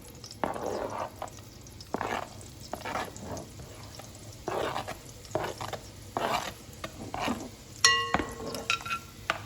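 Green onions and white onions sautéing in a pan, a quiet sizzle broken by repeated stirring scrapes and a couple of light clinks of utensil on the pan.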